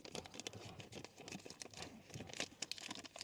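Double-sided adhesive backing peels off a felt pad for a BYD Seal throttle pedal, giving soft, quiet crinkling and tearing crackles in quick irregular bursts close by.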